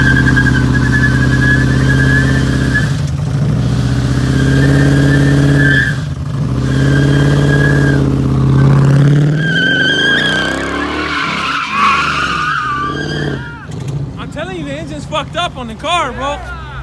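A car with a damaged engine revs loudly while its tires skid and squeal in long sustained bursts, close by, as people shout and talk over the noise.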